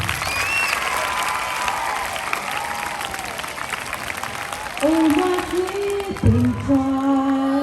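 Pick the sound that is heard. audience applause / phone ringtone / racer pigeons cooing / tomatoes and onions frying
audience applause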